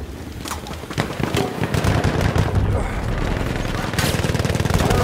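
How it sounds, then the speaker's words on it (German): Explosions and rapid gunfire from a World War I shooter game, a grenade blast among dense, continuous bursts of shots and impacts, loud and busy throughout with faint voices underneath. "Granate ist raus, Tor zu! Ich werfe die Granate!"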